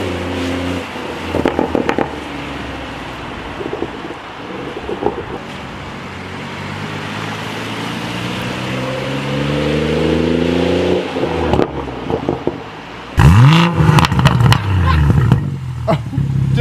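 BMW M140i fitted with an aftermarket Remus exhaust accelerating past outdoors, a loud rising engine note that swells, drops off, then returns with sharp revving bursts and crackles near the end.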